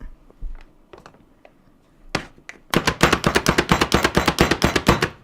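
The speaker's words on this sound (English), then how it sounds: "we're just going to give it a chop" A knife chops tomatoes for roasted tomato soup on a cutting board: a few scattered taps, then a fast, even run of about twenty sharp, close chops.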